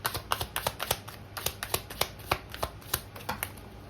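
Tarot cards riffled and slapped down in a quick, uneven run of crisp clicks and flutters, close and fairly quiet, with no talking.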